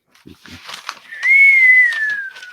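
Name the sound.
wind whistling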